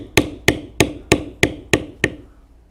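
A mallet strikes a leather beveling tool seven times in an even, steady rhythm, each sharp close knock followed by a short decay, with no talk.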